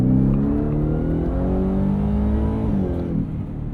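The 720hp V8 of a 2024 Ford F-150 Raptor R pulls hard up through its gears, its deep, loud engine note rising then dropping near the end, heard close with no talk.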